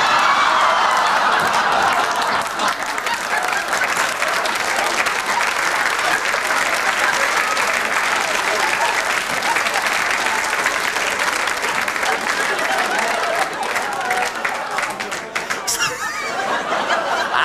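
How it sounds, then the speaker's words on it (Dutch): A studio audience at a Dutch television show applauds for a long stretch, dense steady clapping with scattered laughter and chuckles throughout. "Geef maar een applaus, de meisjes van Volumia."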